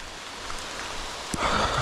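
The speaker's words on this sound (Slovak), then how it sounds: "ako čakal som, že bude pršať, a nečakal som takúto búrku" Rain falls steadily in a soft, even patter during a thunderstorm by a river, swelling louder near the end after a brief thump.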